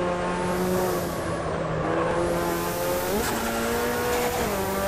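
Race cars battling on track in Automobilista 2: loud engines howl and shift pitch through gear changes and passes, with a second car's tone layered in, steady and close with no talking.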